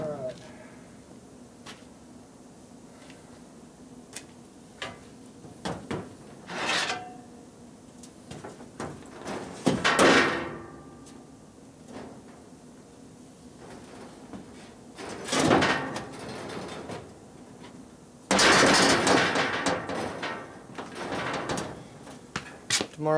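A fabricated car trailer tailgate slides up and down in a workshop, giving a few separate scraping, clanking metal bursts spaced several seconds apart over a low background hum.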